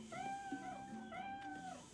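Cats meowing in the video game Tropico 2, a couple of drawn-out, tonal meows one after another, clear and fairly close with no talk over them.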